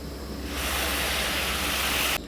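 Milk is poured into carrots fried in ghee for carrot halwa, a loud broad rushing hiss that starts abruptly and holds steady for about two seconds before cutting off sharply, with no talk.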